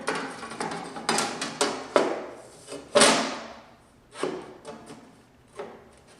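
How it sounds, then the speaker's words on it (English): An aluminum plate is slid into a laser engraver, making a run of close scraping and knocking impacts, some sharp and some softer, spaced irregularly with no voices. "So I just want to slide it in here."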